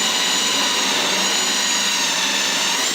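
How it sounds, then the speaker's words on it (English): A high-pitched power drill whines steadily as it bores through gel coat while installing tilting davits, loud and close, without a break. "then we're going to just drill right on through."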